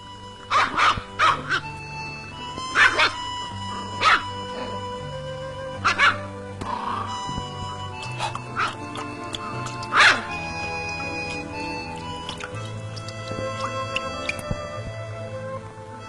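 Cartoon dogs barking in short repeated bursts, several yips and barks spaced through the scene over a soft music bed, with little talk.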